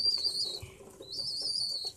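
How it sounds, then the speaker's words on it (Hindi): A Shirazi pigeon landing from above near a nest with eggs, its wings flapping in a brief burst while other pigeons feed nearby, with soft bird chirps over a steady background. "वो भी कबूतरी आ गई ऊपर से"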